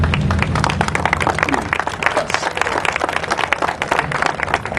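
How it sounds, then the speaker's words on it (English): Crowd applauding at an outdoor mural dedication, dense rapid clapping from many hands sustained throughout, fairly loud and close. "Please, your applause."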